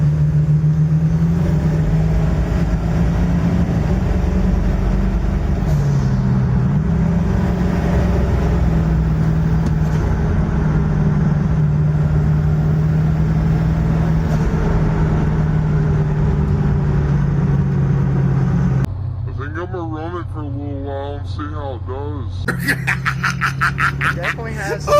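Ford 7.3 diesel engine fitted with compound lift pumps runs steadily with a loud, continuous low drone for most of the clip, then drops off near the end as other sounds take over.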